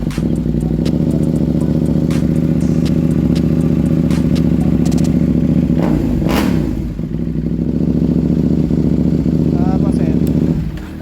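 KTM 790 Duke engine idles loud and close after a fuel pump replacement, a steady throbbing drone with a brief rev and some clatter midway, someone talking over it.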